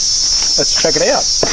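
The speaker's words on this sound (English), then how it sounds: "the cicadas out here are shocking" A constant high, shrill buzz of cicadas fills the background while someone speaks briefly over it.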